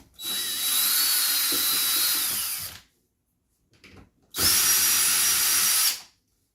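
A power drill backs Torx screws out of a Frigidaire Gallery dishwasher during a heater repair, two loud, close whirring bursts of about two seconds each separated by a quiet pause with faint handling noise.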